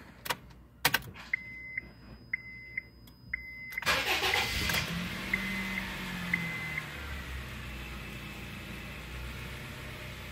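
A 2008 Honda Fit with a random engine misfire starts after a series of clicks and warning chimes, cranking briefly and then settling into a steady, fairly quiet idle.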